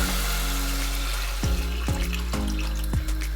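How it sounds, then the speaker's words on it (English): Chicken stock poured into a pot of chicken and spiced sauce for pilau, a close liquid splashing and glugging that grows into several rhythmic gurgling pulses, with no speech. "Now I'm going to add chicken stock."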